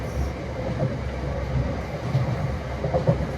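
Inside a moving train, a steady low rumble and rattle continue throughout, with faint wheel clacks rising now and then.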